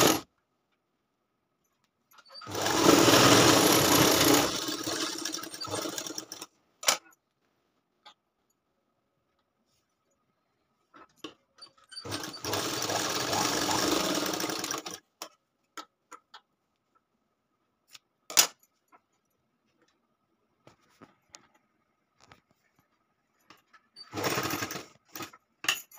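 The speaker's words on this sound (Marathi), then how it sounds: "याच्यावर एकदा शिलाई फिरवून" A sewing machine runs stitches along the folded half-inch fabric edge of a katori blouse, in three separate bursts of steady whirring separated by quiet gaps with scattered clicks and handling taps.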